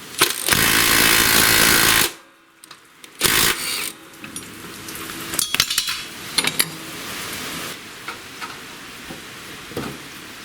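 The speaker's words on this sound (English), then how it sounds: "And I'll remove the same bolts on the other side here." Bolts being removed on a John Deere X-Series riding mower, with an impact wrench hammering loudly for two seconds, then metallic clinks and knocks of tools and parts at close range.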